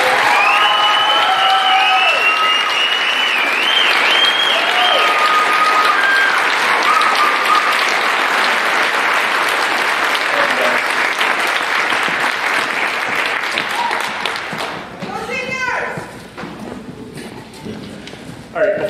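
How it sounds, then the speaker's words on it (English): Loud, dense applause from a school concert audience honoring the senior band members, with scattered cheers early on, gradually thinning out toward the end. "So let's give them one more round of applause."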